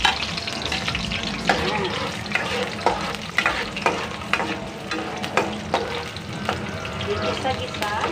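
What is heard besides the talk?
garlic and onion sautéing in oil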